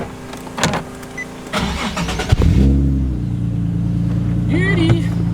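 A Nissan 370Z engine cranks and fires up close by after some clunks and rustling, then settles into a steady, rumbling idle with a brief blip of revs near the end while someone speaks.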